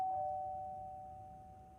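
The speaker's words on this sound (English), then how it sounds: "I'm reaching for the doorbell." A doorbell rings in the video game Z.A.T.O., one clear sustained chime that slowly fades against a quiet background, with no talking.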